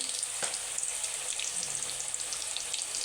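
Onion paste dropped into a hot pan of oil while cooking beef biryani, giving a steady close sizzle and crackle with a brief thump as it lands, no voices.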